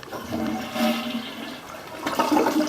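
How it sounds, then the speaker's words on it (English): Toilets flush in a newly built house's bathroom, a steady rushing swirl of water with a second surge near the end, close and moderately loud, no talking. "Commodes are all flushing fine."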